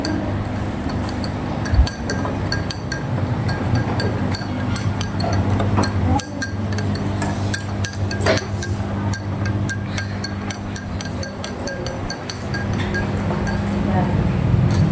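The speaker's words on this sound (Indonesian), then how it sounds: "Aduk teh." A spoon stirs tea in a glass with repeated light, ringing clinks scattered across the clip, over a busy background where voices murmur.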